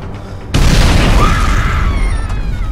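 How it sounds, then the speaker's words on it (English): A missile launcher fires in the shooter Homefront: The Revolution, with a sudden loud boom followed by a long roaring rumble and whoosh that slowly fades. "Need to fire the missiles"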